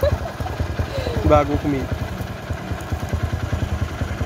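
A motorcycle engine idles and chugs close by with a rapid clattering pulse, while people talk loudly over it throughout.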